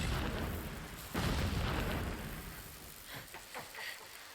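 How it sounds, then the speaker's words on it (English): Distant explosions in the video game Horizon Zero Dawn Remastered, heard as a low, rumbling boom that swells and then fades into a broad roar, with faint crackling afterward. "Explosions in the distance."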